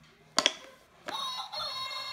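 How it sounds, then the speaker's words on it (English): A rooster crows once, loud and close, with a brief sharp onset followed by a sustained bright call that holds to the end of the short clip, among farm animal sounds. "What's the rooster do?"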